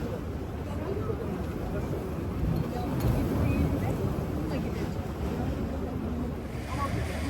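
Broadband rushing surf breaking on the shore with steady wind noise, waves washing continuously without clear breaks; no speech is evident.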